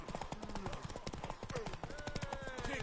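Horse hooves clip-clop in The Witcher 3 in a steady, rhythmic series of close, crisp beats, with voices talking over them.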